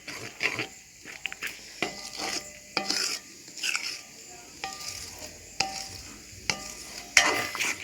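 A spoon stirs and scrapes kithul flour porridge around a pot over low heat in repeated strokes, with clinks of metal between, fairly close and without talk.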